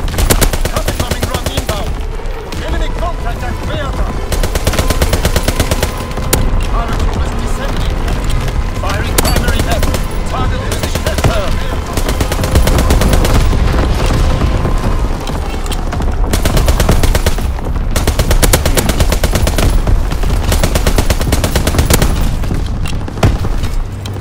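Artillery salvo barrage in Call of Duty: WWII on the Shipment 1944 map, a loud, dense stream of booming shots and gunfire rolling on for the full stretch, with game voices and effects mixed in.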